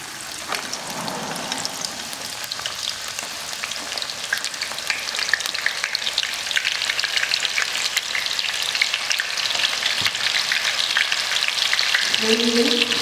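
Ginger paste sizzles and fries steadily in a very hot pan for baingan bharta, a dense continuous crackle that builds slightly and holds without talk.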